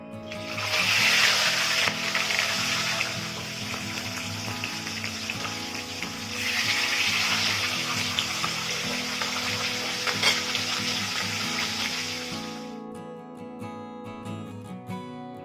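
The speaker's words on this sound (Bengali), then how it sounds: "তেলটা গরম হয়ে গেছে, এবারে মাছের মাথা দুটো দিয়ে দিচ্ছি।" Two fish heads fry in hot mustard oil over medium heat, giving a loud, close, crackling sizzle that surges twice. The sizzle then cuts off into quieter clatter. There is no speech.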